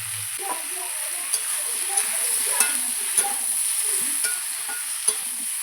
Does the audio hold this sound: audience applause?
no